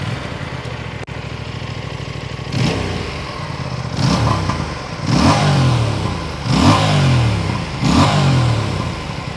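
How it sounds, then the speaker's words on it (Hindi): An Aprilia RS 457 sport motorcycle on a race track revs hard from idle, its exhaust note rising and falling in four or five loud, close throttle blips, each dropping back to a rumbling idle between. "आपको सुनाता हूँ मैं इस मोटरसाइकिल का एग्जॉस्ट नोट।"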